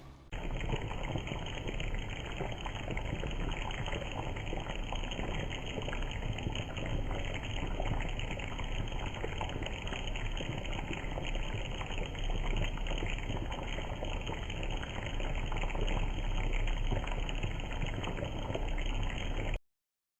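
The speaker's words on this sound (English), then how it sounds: "Cover the pan and let the dish simmer for about 10 minutes." Dish of Sichuan ants-climbing-a-tree noodles with minced meat simmering in a covered pan on a home stove, a steady, dense bubbling hiss that runs evenly throughout without pause.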